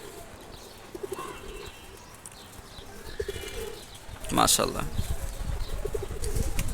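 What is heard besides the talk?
pigeons cooing and flapping wings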